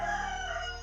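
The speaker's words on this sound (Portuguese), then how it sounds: "o galo cantar de manhã" A rooster crows in the early morning, a short, steady, harmonic call heard at moderate distance with no talking.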